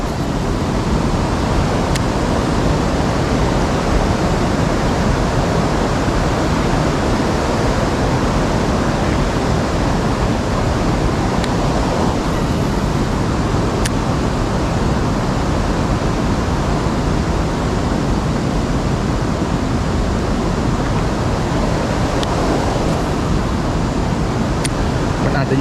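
Steady broadband rush of a flowing stream at a fishing spot for hampala barb in Trang, Thailand, continuous and loud throughout with no pauses, like rushing water close by.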